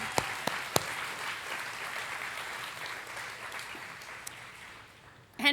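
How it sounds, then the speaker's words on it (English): Modest audience applause at a United Way campaign kickoff event, a soft scattered clapping bed with a few sharper claps early, fading out before a brief louder rustle at the end. "Let's applause for that."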